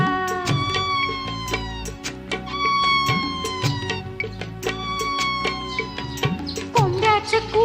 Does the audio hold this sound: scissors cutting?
no